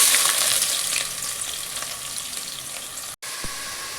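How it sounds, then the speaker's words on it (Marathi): Whole spices such as bay leaf, cinnamon, cloves and black pepper crackle along with onion in a hot pan. The sizzle is steady and close, broken by a brief gap near the end and a faint clink. "याच्यामध्ये ना आता कांदा घालू."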